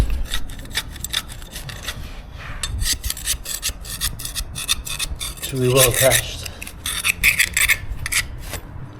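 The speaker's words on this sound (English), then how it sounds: "So we're going to use a scraper to separate it." A scraper rasps and scrapes repeatedly, separating glued luxury vinyl plank from its underlayment over concrete, in short uneven strokes with a few harder knocks; someone speaks briefly partway through.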